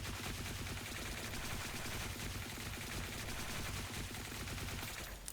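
M4NZ rifle in the shooter game Blackshot fires on full auto, a loud unbroken rapid burst of gunshots lasting about five seconds before cutting off.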